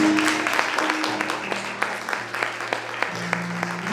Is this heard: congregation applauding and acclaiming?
yes